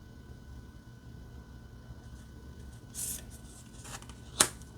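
A brief riffle of oracle cards being shuffled, a soft papery burst followed by a sharper snap near the end, quiet and close with faint background hiss.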